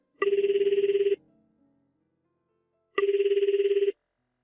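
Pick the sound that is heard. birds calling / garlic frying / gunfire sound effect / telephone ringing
telephone ringing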